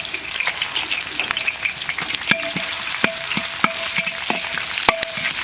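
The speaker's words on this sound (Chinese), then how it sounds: "锅里倒油，来点葱姜干辣椒、花椒、八角、桂皮、香叶、小茴香、白芷" Scallion, ginger, dried chili, Sichuan peppercorn, star anise, cinnamon, bay leaf, fennel and angelica root sizzle in hot oil in a wok, a steady crackling hiss punctuated by sharp clacks of a spatula striking the metal.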